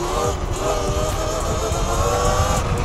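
E-Ride Pro electric bike fitted with an X9000 controller accelerating hard, a loud, steady high-pitched motor whine with broadband wind and road rush throughout.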